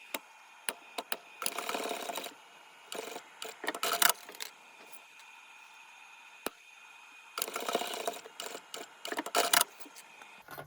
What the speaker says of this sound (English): stitching along the short raw edge at a 3/8 of an inch seam allowance